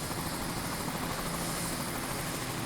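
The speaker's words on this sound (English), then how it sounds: "it looks as if this helicopter is about to take off" A cartoon helicopter taking off: loud, continuous rotor and engine roar, close by and steady throughout, with no voices.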